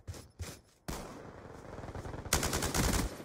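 Light machine gun fire in Black Ops 2, starting with a couple of short bursts and then breaking into long, loud sustained automatic fire with rapid close shots.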